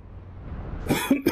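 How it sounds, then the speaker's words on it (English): A few sharp, close coughs, three or four in quick succession, burst out after a stretch of quiet room tone. "that was a coughing fit and a half"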